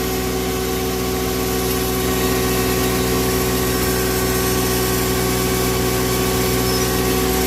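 A tractor engine labors steadily under load on a dynamometer, a loud, continuous low-pitched drone that holds constant throughout with no break or voices.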